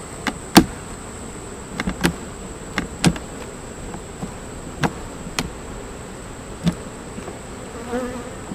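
Honeybees drone around an open beehive in a thin, steady hum, with scattered clicks and knocks of hive frames being handled close by throughout.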